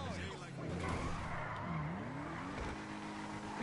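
In GTA Online, a Revolter car drives a lap-time run, its engine rising and falling and its tyres squealing through a skid, fairly faint and continuous, with someone talking over it.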